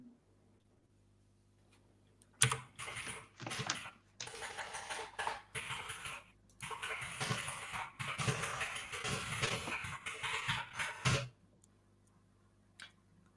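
Rapid clacking keystrokes on a mechanical keyboard come in dense bursts for several seconds, close and fairly loud, then stop abruptly into near silence.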